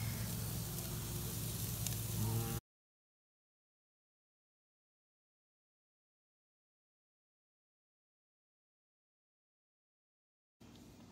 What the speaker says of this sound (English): marinated salmon on the grill